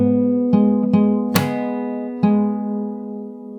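Slow fingerstyle acoustic guitar playing a passage from a song, with a handful of plucked notes and chords spaced apart, each left ringing and fading under a steady sustained bass tone.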